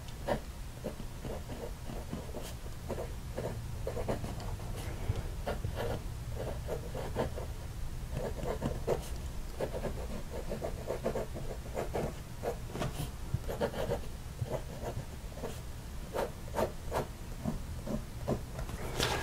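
A Hero 89 metal fountain pen writing on paper, giving a soft, faint scratching and hissing of the nib gliding across the page, with quick irregular strokes repeating steadily throughout.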